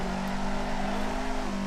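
A car sliding and drifting in third gear in Assetto Corsa on the Akina downhill course in Japan, its engine holding a steady, droning, high-revving tone throughout, with a faint tire hiss beneath.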